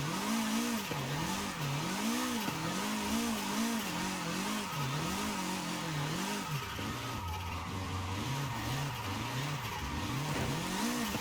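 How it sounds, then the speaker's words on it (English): A Mazda MX-5 RF drifting in Forza Horizon 5, its engine and exhaust rising and dipping in quick rhythmic waves under constant tire skid, loud and unbroken, with no voices. "That exhaust sound sounds like crap,"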